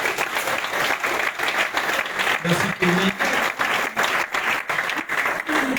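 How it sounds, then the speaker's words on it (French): An audience at a sports tournament draw applauds loudly and steadily, many hands clapping in a sustained burst while a presenter speaks briefly over the noise. "On va l'applaudir très très fort"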